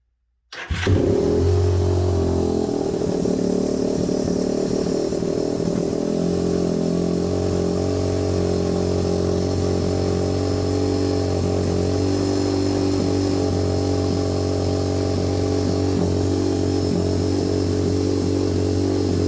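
A small 190cc engine with a newly installed Nibbi 28mm carburetor starts up and keeps running close by, revving unevenly as it settles into a steady, loud idle with no voices.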